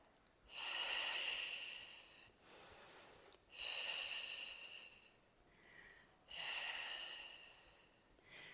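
Three long, loud breaths are drawn and pushed out close to the microphone during a seated chair Pilates exercise, each a rushing whoosh separated by brief pauses.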